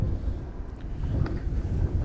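Low, steady rumbling buffets of wind hitting a microphone at an outdoor baseball game, continuous and fairly loud throughout with no clear voices.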